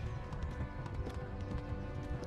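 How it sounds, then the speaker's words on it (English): A horse gallops in the medieval video game Kingdom Come: Deliverance, its hooves a rapid, continuous clip-clop beneath a busy, dense game soundscape. "I hope my horse can make it."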